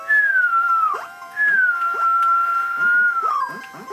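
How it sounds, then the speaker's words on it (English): A person whistles loud and close: long, slightly wavering sustained notes with downward slides at the phrase ends, sounding on their own. "I learned how to whistle."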